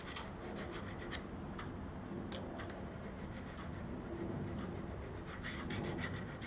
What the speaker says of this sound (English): Now a quick deburr with the diamond file.